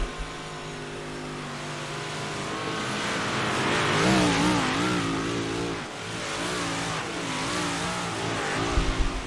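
Big block modified race cars roar around the dirt oval at Lernerville, with loud, sustained engines rising and falling in pitch as the pack passes close by.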